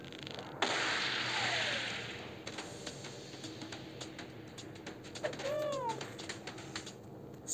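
Snowy owl from the mobile game Rodeo Stampede, a whooshing swipe followed by soft cooing hoots and a pair of rising-and-falling whistled calls, heard alone and fairly close.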